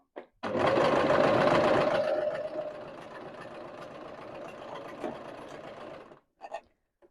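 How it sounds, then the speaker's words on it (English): A sewing machine stitching the collar of a 1950s vintage polka dot blouse runs in one steady, close whirring stretch for about six seconds, slowing slightly partway through, then stopping with a couple of short clicks. "we're nearly at the end of sewing this collar together"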